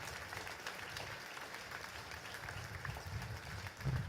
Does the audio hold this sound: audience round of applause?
yes